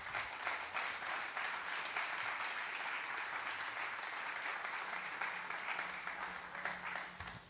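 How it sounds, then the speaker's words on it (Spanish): A church congregation claps for Christ in a dense, steady round of applause, heard from a distance and fading slightly at the end, with no voices over it. "Denle un aplauso a Cristo."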